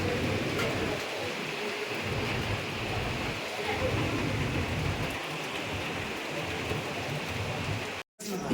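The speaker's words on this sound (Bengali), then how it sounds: "বৃষ্টি পড়ছে।" Heavy rain pours down in a continuous, dense hiss that stays even and loud, with a brief dropout near the end.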